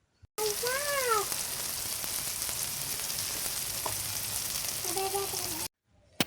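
Tomatoes seasoned with salt and chili powder sizzle steadily in a pan for a pasta sauce, a constant close frying hiss; a cat meows a couple of times over it near the start and end.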